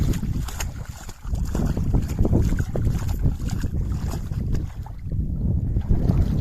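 A boat underway on open water, with steady churning water wash and gusty wind buffeting the microphone, loud and continuous throughout without speech.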